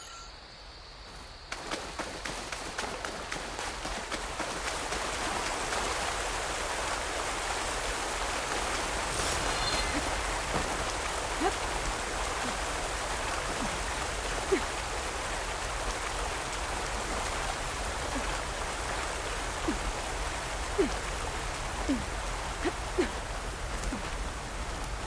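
A rushing waterfall in Horizon Forbidden West pours as a steady, broadband wash of water that fills the whole stretch, with scattered sharper splashes and ticks over it and no talk.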